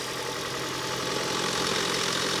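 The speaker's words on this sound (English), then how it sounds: "Engine sounds weird." A car engine idles steadily, loud and close, with a rough, uneven knocking rattle running through the rumble.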